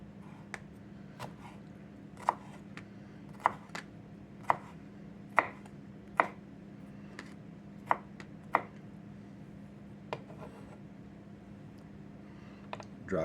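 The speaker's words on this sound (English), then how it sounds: "And I just cut this up in smaller pieces." A knife chops a boiled egg into small pieces for egg salad, giving about a dozen sharp, close cuts at an uneven pace over a steady low background hum.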